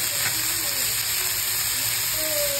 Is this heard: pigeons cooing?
no